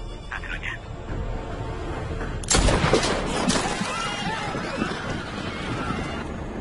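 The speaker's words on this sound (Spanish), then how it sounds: "Métele plomo en el cuerpo, Reis. Hazlo ya" A sniper shot in an action film sounds as one sharp loud crack with a brief reverberating tail after a quieter stretch, followed by a fading rumble and scattered low noise.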